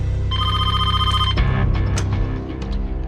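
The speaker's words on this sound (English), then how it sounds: "A single phone call changes everything." A telephone rings in a sharp burst of bright bell-like tones over a heavy low musical drone, followed by clattering hits and rising effects, loud and dramatic with no speech.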